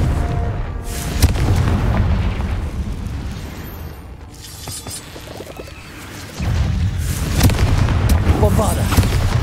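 Deep booming explosions from a Confringo fire spell in Hogwarts Legacy, set in a cave. Loud low rumbles recur with crackling bursts, dip briefly, then return heavily, while a voice speaks faintly under them.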